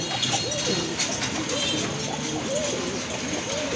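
A pair of pigeons coo in a repeated, rolling pattern, about five soft throaty phrases in under four seconds, close by over a steady background hiss.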